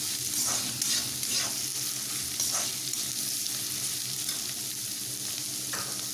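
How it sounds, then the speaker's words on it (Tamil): Onions for vada curry sauté in a hot pan with steady sizzling and frying hiss, stirred now and then with a few soft scrapes, close and continuous with no talk. "இது கொஞ்சம் வதங்கணும்."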